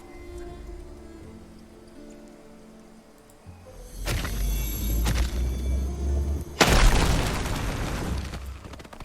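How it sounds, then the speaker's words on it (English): A rock explosion in the video game RuneScape: Dragonwilds: a deep booming blast bursts in loud and close, followed seconds later by a second sharp, heavier blast, with rumbling debris trailing after each. "It's a time for a rock explosion."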